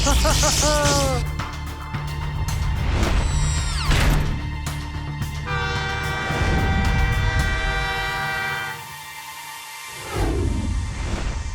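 A train rumbles past with its horn sounding in long blasts, wheels grinding and clattering underneath, loud and near throughout.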